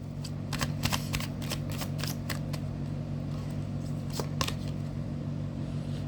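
Tarot cards shuffled by hand in quick riffling bursts, a rapid series of crisp flicks that cluster early and again midway, over a steady low hum, no speech.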